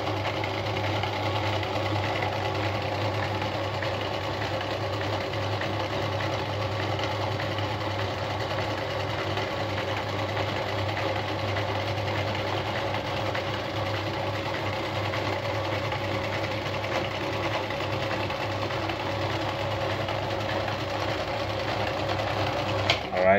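A black Singer 319K sewing machine stitches a disc cam design in a continuous, steady mechanical whirring hum that runs close and even throughout, with no pauses.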